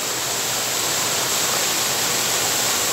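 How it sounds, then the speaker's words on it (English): A waterfall near Loch Tummel in Scotland roars in a steady, dense rush of falling water, loud and unbroken for the whole stretch, with no voices. "Everybody knows I love a waterfall."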